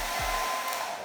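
Hair dryer blowing hot air to heat a helmet camera mount, a steady close whooshing hum with no pauses over about a second.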